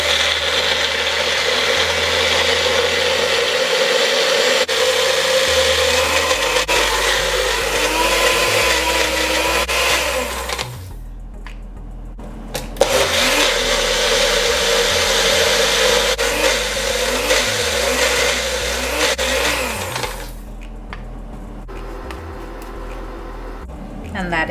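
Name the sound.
blender blending soaked cashew nuts with water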